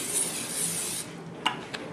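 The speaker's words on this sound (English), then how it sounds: "I'm going to go ahead and just spray this with some release here" Release spray hisses steadily from a can into a cake tin for about a second, followed by a couple of light taps and clicks as the tin is handled.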